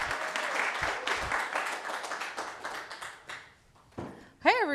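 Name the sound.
audience applause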